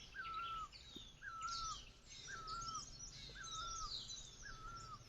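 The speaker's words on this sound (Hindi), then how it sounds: "अब यहाँ कोयल की आवाज़ देख रहे हैं," Koel calling in a mountain forest gives repeated, evenly spaced whistled notes about once a second, clear but moderately distant, with faint higher chirps from other birds and a soft background hum.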